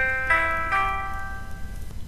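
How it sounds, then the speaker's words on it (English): A chord rolled on piano, its notes entering one after another in two quick spreads before ringing out and fading, heard alone and fairly close. "Another way to play a chord is to arpeggiate or roll the chord"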